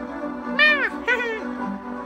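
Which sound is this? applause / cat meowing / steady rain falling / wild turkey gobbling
cat meowing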